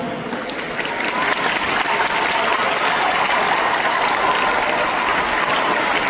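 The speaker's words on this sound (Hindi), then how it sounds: "एक बार ताली हो जाए हमारे हिंदुस्तान के लिए।" Sustained applause from an audience at a Hindi poetry and devotional recital, steady and dense throughout, with the clapping swelling slightly in the first second and then holding level with no voices over it.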